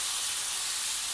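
Potatoes hitting a hot tempering of oil and spices in a shallow pan, giving a steady bright hiss and sizzle that stays even throughout, moderately loud and close, with no talking.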